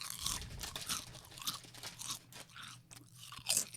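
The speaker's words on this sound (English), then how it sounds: "Guess what flavour crisps they are from the Crunch?" Someone eats crisps close to the microphone, producing a run of crisp, irregular crunches and chewing bites with short quiet gaps between them.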